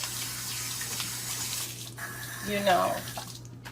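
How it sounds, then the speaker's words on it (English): Tap water running into a kitchen sink while hands are washed, a steady close hiss and splash over a low hum, with brief splashing and a voice near the end. "Wash my hands again."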